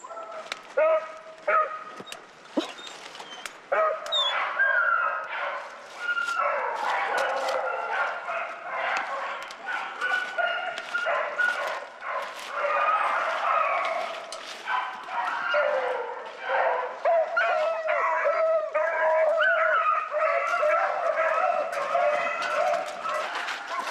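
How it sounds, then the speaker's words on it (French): A pack of Basset Fauve de Bretagne hounds bays continuously while hunting rabbit through brambles, many overlapping high yelps and cries carrying on throughout, loud and close. "Les chiens sont bien ameutés. Tout le monde crie."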